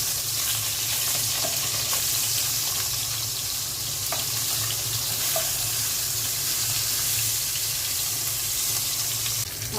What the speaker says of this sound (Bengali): মাছের মাথাটা ভেজে নেব।